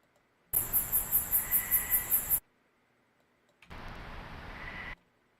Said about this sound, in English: So that's the crickets.